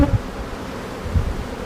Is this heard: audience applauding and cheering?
no